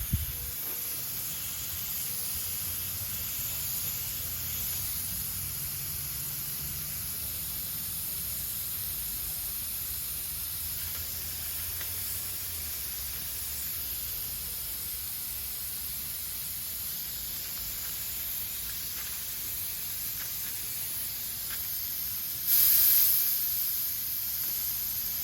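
Steady spray-gun hiss while dusting paint over a small hole repair on an RV, a continuous near airy spray with no pauses until a short louder burst near the end.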